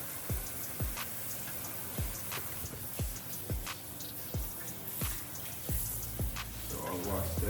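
Tap water runs steadily into a sink while a turkey neck is rinsed, with scattered splashes and drips, close and moderately quiet, no talking.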